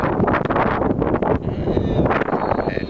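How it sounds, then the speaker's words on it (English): Strong wind at the Seaside Heights beach in summer 2013 buffets the microphone, a loud, continuous roar with gusty rumbling throughout. "Oh, the wind."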